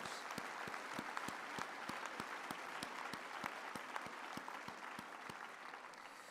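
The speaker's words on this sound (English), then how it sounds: "we should give them a hand of applause" Graduates receive applause at a University of the Free State graduation ceremony, a broad, continuous roar of clapping from a large audience with a few sharper, rhythmic claps standing out, steady throughout.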